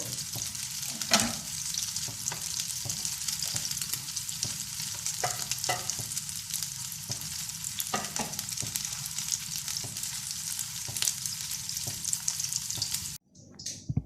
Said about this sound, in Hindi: ये चपटी कबाब फ्राई हो गए हैं